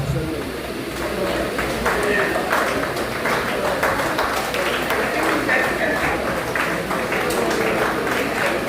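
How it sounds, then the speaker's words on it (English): Crowd applause at a healthcare research symposium fills the background, steady and fairly loud, while voices and chatter carry on over it. "Please, with a round of applause."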